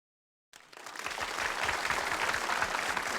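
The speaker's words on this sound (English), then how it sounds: "Following the final trumpet blast, the crowd around me bursts into applause." A street crowd on Main Street claps in applause after a band's trumpet call, starting suddenly after a brief silence and swelling into sustained, dense clapping nearby.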